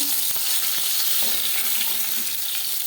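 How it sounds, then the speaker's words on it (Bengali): Pieces of rohu fish sizzle in hot oil, a close, steady bubbling hiss with occasional soft taps of a utensil. "মাছ ভাজা হয়ে গেছে"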